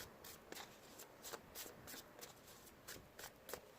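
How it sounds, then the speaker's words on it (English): Soft, rapid riffling of playing cards being shuffled repeatedly, a quiet papery flutter in quick bursts close by. "Give it 3 more shuffles."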